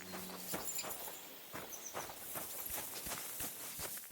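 Horse hooves clopping in Kingdom Come: Deliverance II, a steady run of sharp, close hoof beats on the ground over a continuous outdoor ambience, with no talking.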